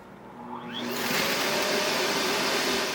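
A DreameBot D10 Plus robot vacuum starts up with a rising whir, then settles into a loud, steady motor hum and suction rush close by.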